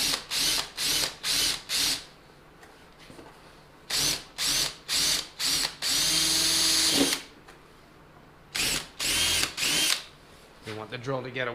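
A power drill working on a 2012 Polaris Rush 800 snowmobile whirs in short repeated bursts, then a longer steady run, followed by more quick pulses and a final ratcheting rattle.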